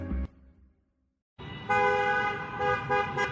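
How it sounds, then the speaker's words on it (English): Car horn honking in traffic, a sustained bright toot that starts after a short thud and near-silence, holding loud and steady for nearly two seconds. "And we still in traffic."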